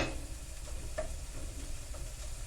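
Taco ground meat browning in a pan, its close, steady sizzle running throughout while a utensil stirs and pushes it around with soft scraping strokes; no one speaks.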